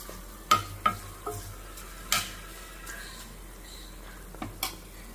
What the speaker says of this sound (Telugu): సో ఉసిరికాయ ముక్కలు కూడా వేగుతున్నాయి